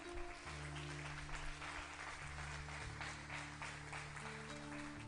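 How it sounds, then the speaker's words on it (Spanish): Church congregation applauding during a Sunday service, sustained dense clapping from many hands, steady and moderately distant, with a low hum of music or voices beneath. "Denle un aplauso al Señor."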